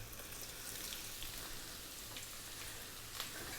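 Chopped onion dropped into hot oil over high heat, giving a faint, steady hiss and crackle of frying with scattered small pops, heard alone.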